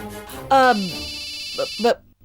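A mobile phone ringtone chimes in bright bursts at a domestic scene, sounding among voices and sharing the moment with speech.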